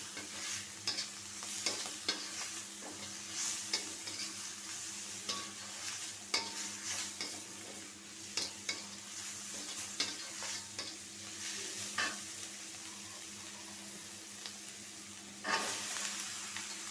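Pumpkin and shrimp stir-fry in a pan, giving a steady close sizzle with repeated scraping and clicking stirs in an irregular rhythm and no talking.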